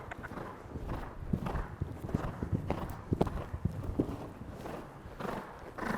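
A horse ridden over jumps thuds along in a steady clip-clop of hooves, fairly close and loud, with uneven strides and a few heavier beats as it moves through the course.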